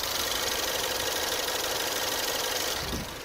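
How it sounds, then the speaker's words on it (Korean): A gasoline four-wheel-drive imported SUV engine idles steadily and close up with the hood open, a continuous even hum with a fine ticking texture, no voices. "엔진 소리 듣기 위해서 보네트까지 개방을 해봤습니다"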